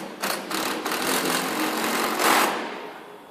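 A power driver whirs steadily as screws are run in to fix a vertical bracket, a continuous buzzing motor sound lasting a few seconds with a brief rise near the end before winding down, close and fairly loud.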